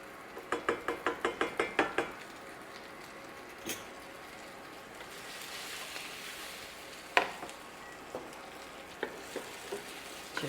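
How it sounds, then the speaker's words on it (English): Ginger and vegetables sizzle in a pan, with a quick burst of rhythmic stirring scrapes at the start, then a steady frying hiss broken by occasional clinks of the utensil against the pan. "Add my ginger in. I don't want to do too much ginger. Stir that around."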